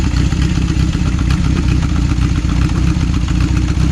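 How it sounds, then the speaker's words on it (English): A Honda CB750 motorcycle engine idles steadily up close, a loud, even mechanical chatter with a slight clattery edge and no voices over it. "it just goes straight into running and idling just fine after a second"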